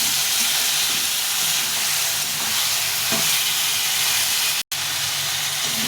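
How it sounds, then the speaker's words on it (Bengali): Ginger-cumin paste sautéing in a pan for a ridge gourd and poppy seed dish, giving a steady, loud broadband sizzle and hiss throughout, with faint stirring and a brief dropout near the end. "আদা জিরে বাটাটা দিয়ে দিবি, দিয়ে একটু ভালো করে কষে নেব।"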